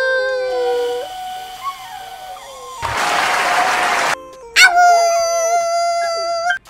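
A small dog howls in a long, wavering, high-pitched tone, then a burst of broad noise breaks in before the howl resumes. Loud and close, with no talking.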